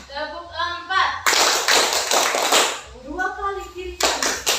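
A classroom of children claps hands together in a counted rhythm during a lesson, with bursts of dense clapping between stretches of an adult voice calling out counts.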